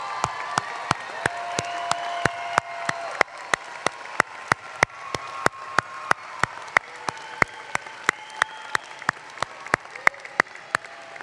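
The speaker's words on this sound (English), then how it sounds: "And a big round of applause." A commencement audience applauds standing graduates, a steady wash of clapping throughout, punctuated by regular sharp clicks close by.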